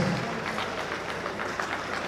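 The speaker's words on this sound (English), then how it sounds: "a warm round of applause once again for Dr. Mrs. Offo Teresa" Warm applause at a Nigerian accountants' gathering, a short burst of steady audience clapping heard on its own for about two seconds.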